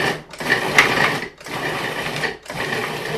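A loud electric kitchen appliance grinds chocolate ice cream ingredients, a harsh whirring roar in three bursts separated by brief pauses, close up and with no talk.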